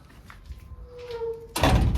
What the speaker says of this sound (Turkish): Şu kapıyı kapatalım da içeri girmesinler abi.